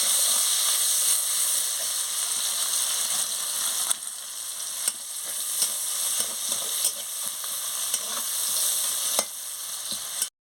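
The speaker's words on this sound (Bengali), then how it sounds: "পেঁয়াজটা ভাজা হয়ে গেছে," Onion fries vigorously in a pan of hot oil for an okra and potato curry, giving a loud, steady sizzling hiss with periodic scraping stirs, then cutting off abruptly at the end.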